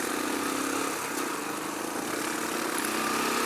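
Royal Enfield Classic 500 motorcycle engine turning over at low speed while riding slowly, a steady close rumbling drone mixed with broad wind noise, loud and continuous with no talking.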